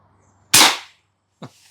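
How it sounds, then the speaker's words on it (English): An FX Impact M4 air rifle fires a single practice shot, a sharp loud crack with a short decaying tail, followed by a faint distant impact. "So okay, let's take a practice shot."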